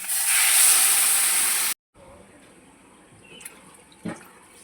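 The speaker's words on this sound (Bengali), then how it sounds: "এবার দিয়ে দেবো জল" Water thrown onto hot frying potatoes gives a loud, close burst of hissing steam that lasts under two seconds and cuts off abruptly. A quiet kitchen follows, with a few small knocks.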